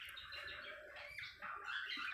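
Colourful pet birds, including red-eyed albino and lutino types, chirping on a bird farm, a dense continuous twittering of many small birds, faint and steady, with no talk.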